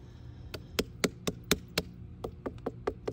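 Knuckles knock and tap on a Sugar Baby watermelon still on the vine in a garden, giving about a dozen sharp, hollow raps at an uneven pace, close up over faint outdoor hum.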